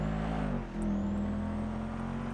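A loud, steady video game car engine drone with a low rumbling hum, continuous throughout, with a brief dip in intensity partway.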